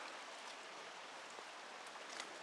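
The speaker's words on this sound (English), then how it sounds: "it's raining" Soft, steady rain in a forest hissing faintly across the whole stretch, with occasional individual drops standing out, distant and without any voices.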